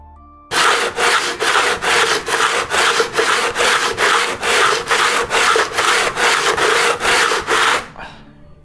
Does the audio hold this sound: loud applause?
no